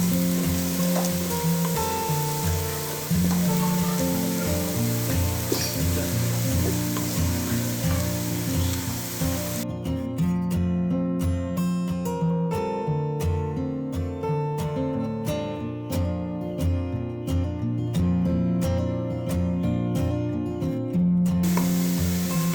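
Onions frying in a pan for chicken biryani, turning light golden, sizzle loud and continuous, with a steady stir of scraping and tapping from a utensil against the pan joining midway.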